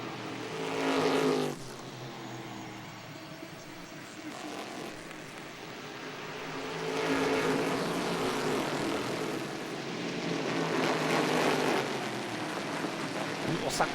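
Stock Car racing cars from the 2006 season accelerating hard along the back straight at the Londrina circuit, with loud engine roar swelling and fading as cars pass, over continuous commentary.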